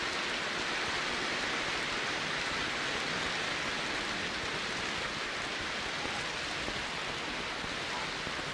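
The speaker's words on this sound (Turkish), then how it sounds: "Gördünüz mü nasıl yağmur yağıyor?" Steady, dense rainfall hisses evenly throughout, a continuous wash of drops with no voices or pauses.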